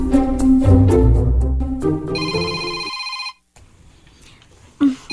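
A cellphone rings indoors, its electronic ringtone chiming in repeated bursts for about three seconds before cutting off, followed by quiet room tone and a brief voice.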